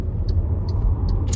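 An MG Cyberster sports car with 725 Nm of torque gives a deep, steady engine and road rumble from inside the cabin, with a few faint high ticks on top.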